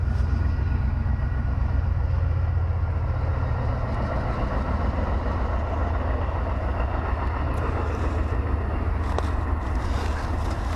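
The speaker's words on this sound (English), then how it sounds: "There's a train." A steady low rumble of a train rolling past at a distance, blended with wind buffeting the microphone.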